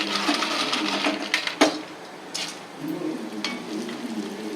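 Onion vadam fry in hot oil with a crisp, crackling sizzle that stays close and fairly loud. Sharp pops and a clink of utensils break in now and then.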